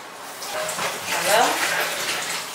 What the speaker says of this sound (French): je vais prendre la bassine dans laquelle je vais laver mon plantain